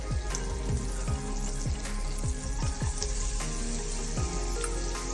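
Chopped garlic fries in melted butter in a pan for a chicken breast dish, giving a loud, steady crackling sizzle throughout, with repeated scraping stirs.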